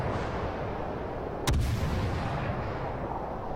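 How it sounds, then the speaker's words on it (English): A single heavy cannon blast from the naval video game World of Warships booms out of a steady rumbling background, followed by a low rolling echo that fades over a few seconds. "Comes the cannon fire."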